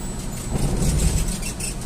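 A motorhome towing an Acura car rolls down the road, a steady low engine and road rumble heard from inside with a brief swell of louder drone in the middle and no talking.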